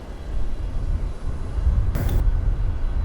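Steady low propeller-engine drone of a light aircraft in Microsoft Flight Simulator 2020, a continuous even rumble with a brief brighter burst partway through, no talking.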